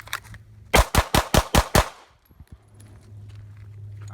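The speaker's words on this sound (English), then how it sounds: "I'm shooting a Glock 19, which I normally don't shoot" A Glock 19 pistol fires six rapid shots in an even burst during a bill drill, loud and close, followed by quieter clatter and ambient noise.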